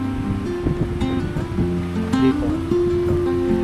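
Waves wash against the shore at a beach campsite in San Juan, Batangas, a soft continuous surf under light wind, with a brief spoken word near the start.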